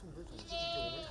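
A goat bleats on a vegetable farm in cold winter weather, a short wavering cry rising over a voice talking in the background.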